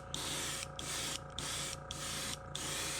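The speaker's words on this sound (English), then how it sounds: "let me try the airbrush and see how that does" Airbrush spraying paint onto carved wooden spiral Christmas trees, a close steady hiss broken into regular short bursts about every half second, with no one talking.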